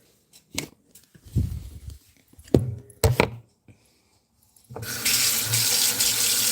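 After a few soft clinks and handling sounds, a kitchen tap is turned on and runs steadily at close range while a knife is rinsed after cutting garlic.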